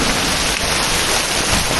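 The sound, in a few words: heavy monsoon rain in Vrindavan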